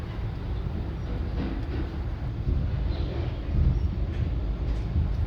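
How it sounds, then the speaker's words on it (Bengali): The Gour Express pulls out of Bardhaman station, a steady low rumble and rattle of rolling carriages heard from inside, building slightly as it moves, with no talking. "বর্ধমান স্টেশন থেকে ট্রেন ছেড়ে দিয়েছে"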